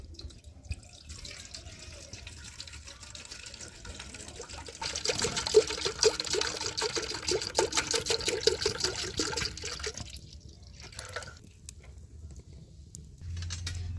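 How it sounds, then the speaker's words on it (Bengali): Liquid milk being strained in a home kitchen for a semolina and powdered-milk sweet, a steady trickling pour that swells louder in the middle stretch and then thins out, with no talking. "এই যে আমি লিকুইড দুধ নিয়েছি, দুধটা আমি এখন ছেঁকে নিচ্ছি।"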